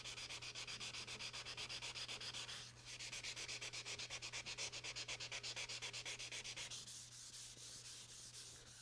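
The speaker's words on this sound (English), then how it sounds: "now down here you want to sand right up to the edge using the flat of your hand and your fingers" Hand sanding during a Delta Unisaw table saw restoration: quick, even back-and-forth rubbing strokes in a steady rhythm, close and clear, with a brief pause partway through and no voices.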